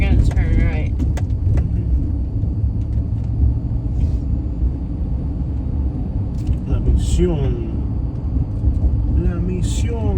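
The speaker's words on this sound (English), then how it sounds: "Trucks everywhere." Trucks and other traffic rumble steadily on a road at night in Midland, Texas, a loud low engine drone heard from inside a moving vehicle, with voices and a brief chime breaking in now and then.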